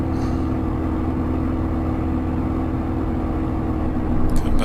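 A Spitfire engine drones in a Microsoft Flight Simulator flight over the desert, a loud, steady, low, even hum as the throttle is eased back.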